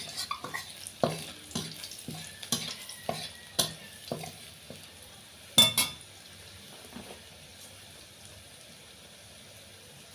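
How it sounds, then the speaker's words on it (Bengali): Garlic cloves frying in hot oil with radhuni spice tempering sizzle softly while a metal spoon scrapes and clinks against the pan in a series of sharp, evenly spaced strokes, one louder clatter midway. "রসুনের কোয়াটা লাল লাল করে ভেজে একটুখানি রাঁধুনি ফোড়ন দেব।"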